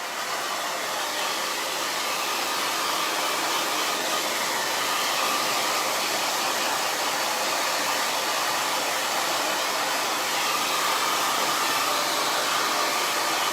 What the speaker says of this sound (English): you'll see that I'm drying my roots